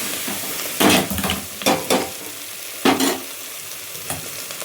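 Small tomatoes frying in oil for sambar are stirred in a pot, bursts of loud scraping and clanks from the utensil over a low, constant sizzle, in a few uneven strokes with pauses between.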